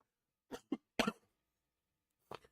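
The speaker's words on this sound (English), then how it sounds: "Sorry for like all the coughing." A person coughs in a handful of short, sharp bursts, two quick ones followed by a heavier one and another after a pause, close and fairly quiet, with no talking.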